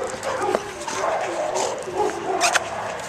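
A dog making high, wavering whimpering howls and yips close by, rising and falling in several drawn-out bursts.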